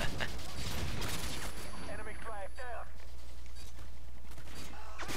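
Bursts of rapid gunfire and impacts in a Modern Warfare 2 match, dense and loud at first, then trailing into a steady background rumble while someone talks over it.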